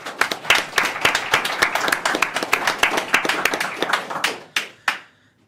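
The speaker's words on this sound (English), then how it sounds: "So huge applause for Nova Custom and NitroKey." Conference audience at a Qubes OS summit applauding sponsors, a dense burst of hand clapping that holds steady, then thins into a few last scattered claps before stopping.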